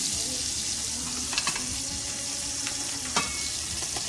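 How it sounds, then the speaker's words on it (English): Halloumi cheese fries in a few tablespoons of olive oil, a steady broadband sizzle and crackle with a few brief utensil clicks and bumps on top, close and continuous. "And that's just a few tablespoons of olive oil and the halloumi cheese. And like I said, you're gonna fry it on both sides"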